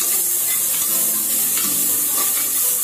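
Onion frying in a pan with very little oil for a tempering, a steady loud sizzle throughout with faint stirring, no voices.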